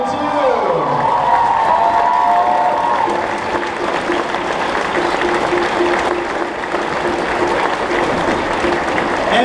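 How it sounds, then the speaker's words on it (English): An audience at a middle school concert applauds the beginning and intermediate orchestras and two school bands, a dense, steady wash of clapping with some crowd noise that carries on loudly for the whole stretch. "how about a round of applause for the beginning orchestra, intermediate orchestra, and band 1 and 2"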